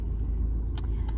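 Steady low rumble inside a moving car, a continuous engine and road drone with a couple of brief brighter bumps, no voices.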